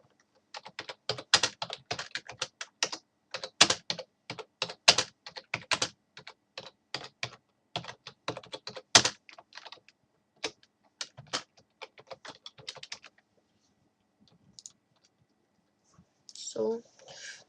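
Rapid, close computer keyboard typing in dense irregular bursts that thin out and stop, followed by a brief soft noise near the end; speech is faint or absent.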